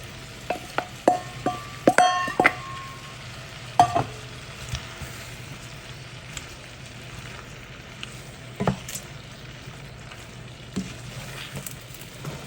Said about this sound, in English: now I am going to add my steak back in.